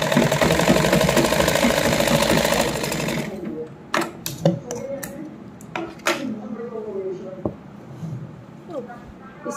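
A sewing machine stitching a salwar seam whirs steadily for about three seconds and then stops. Someone talks over scattered clicks and fabric handling.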